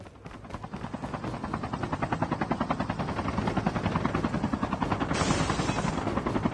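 A helicopter in the Call of Duty video game thumps with a rapid, steady rotor chop that builds and stays loud and close throughout.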